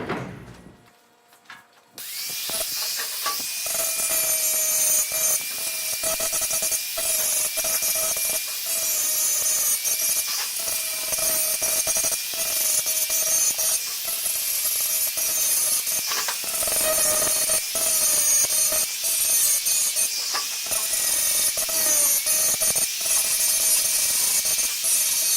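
Grinding away weld tacks on a thin 16-gauge hot-rolled steel box, feathering them smooth: a steady, loud, continuous abrasive whine with a constant pitch that holds for the whole stretch.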